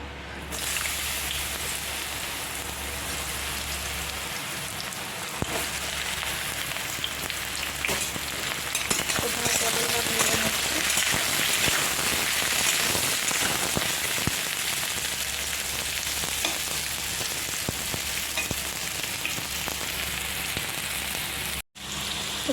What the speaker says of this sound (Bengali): এবার পটলটা ভাজা হবে কড়াতে